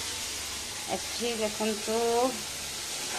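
Okra frying in a pan on a gas stove, giving a steady, moderate sizzle that runs throughout under a woman's short remarks.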